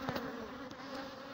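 A Belfast breed honey bee buzzes in a short, faint, steady drone close by, with no other sounds.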